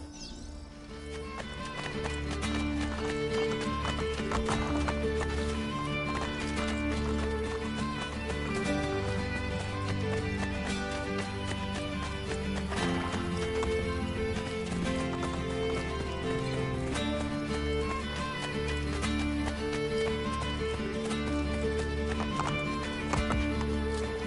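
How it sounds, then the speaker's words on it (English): Horses galloping with rapid clip-clop hoofbeats and occasional neighs in the Assassin's Creed video game, a continuous loud rhythmic pounding over game sounds, with brief speech. "I can no longer keep up with the horses."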